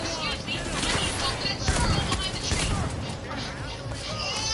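Gunfire from a shooter video game comes as a dense, continuous stream of shots and impacts amid a busy game soundscape, with someone talking over the top of it.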